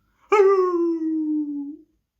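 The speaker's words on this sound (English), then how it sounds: "Beside the bog stood a dog who was howling." A dog beside a muddy bog lets out a single clear, close howl that begins sharply, holds a long wavering tone and slowly falls away into silence.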